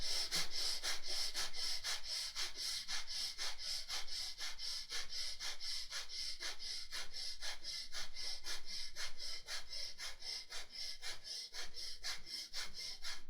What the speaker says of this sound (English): do 25 breathing quick and fast